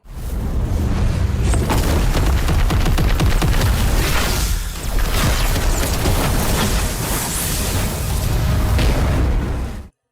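A loud, sustained booming blast roars for several seconds, dense and rumbling, with a brief dip before it surges again and cuts off.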